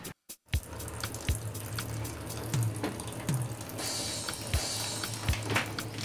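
Water running from an improvised faucet valve on a pipe in a laundry area, a steady splashing stream broken by intermittent drips and clanks after a brief silent start.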